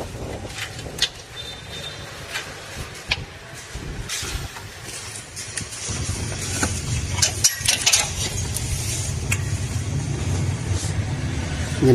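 A Toyota Vios engine idles after a drive belt replacement, giving a steady low mechanical hum with scattered clicks and clanks of work nearby, growing slightly louder toward the end.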